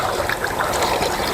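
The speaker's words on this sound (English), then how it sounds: "I'm going to pour in the mango." Mango base liquid pouring into a spinning machine during a lunch demonstration, a steady close trickle and splash holding evenly throughout without pause.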